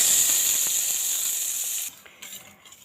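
Mustard seeds, asafoetida, garlic, dried red chillies and curry leaves sizzling in hot coconut oil for a raw mango appe huli tempering, a loud steady hiss that drops off sharply near the end into faint crackles.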